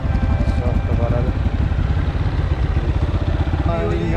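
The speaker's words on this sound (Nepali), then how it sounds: "एउटा टक्क कोल्ड स्टार्ट हुँदैछ यहाँ" A motorcycle idles after a cold start, a steady close loud chugging that runs the whole time with no voices.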